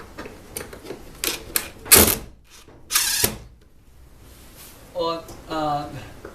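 A power drill drives into wood while drawers are being added to a workbench. Short mechanical bursts and clicks come first, then a couple of brief whirring drill runs, close and moderately loud.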